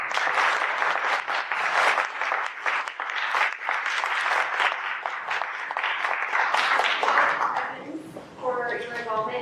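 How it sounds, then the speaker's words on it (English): Dense, sustained applause from a courtroom audience for mock trial students, loud and continuous before thinning out near the end, where a voice starts speaking. "let's give these students another round of applause"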